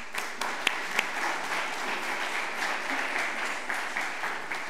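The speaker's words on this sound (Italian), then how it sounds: "Un applauso per Giorgio" An audience applauds at an engineering anniversary celebration, steady dense clapping throughout, with no talk.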